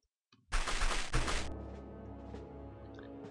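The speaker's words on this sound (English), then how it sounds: "he just keeps firing and firing and firing" Enemy automatic gunfire in The X-Com Files, a dense, loud one-second burst of rapid shots that ends abruptly and gives way to a fading echo and quiet ambient game tones.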